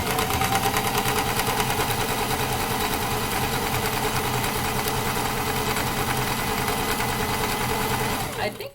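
A sewing machine stitches fabric in a fast, steady mechanical chatter that runs continuously and close up before stopping abruptly at the end.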